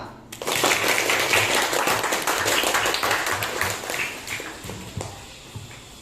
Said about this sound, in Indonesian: Beri tepuk tangan yang meriah kepada teman kita.